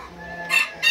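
Roosters in a pen of young Brahma and Red Pyle males, with a low clucking murmur underneath and two short, loud crowing bursts toward the end, close by.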